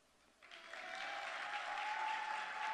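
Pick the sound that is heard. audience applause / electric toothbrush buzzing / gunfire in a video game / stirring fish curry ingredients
audience applause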